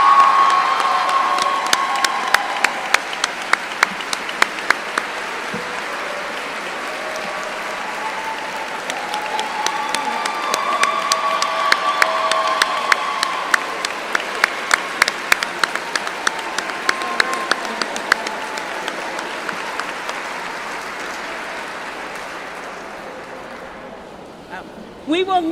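Applause and cheering from a large crowd at a school district opening ceremony honouring teachers of the year, with sharp nearby claps, shouts and voices mixed in over a long, swelling round before it tapers off.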